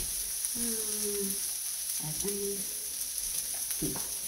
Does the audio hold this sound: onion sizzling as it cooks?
yes